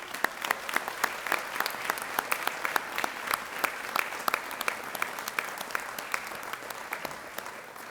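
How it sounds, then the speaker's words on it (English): Audience applause at a school convocation ceremony, a large crowd clapping in a full, steady burst with crisp individual claps standing out, holding strong for several seconds in a big hall. "let's give yourselves and all of our faculty a big round of applause."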